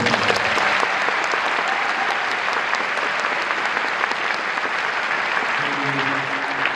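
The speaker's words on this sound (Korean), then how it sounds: "박수 한번 주세요" Sustained applause from a fan audience at a Korean actor's talk show event, thick continuous clapping at steady loudness throughout, with faint voices and a few cheers mixed in.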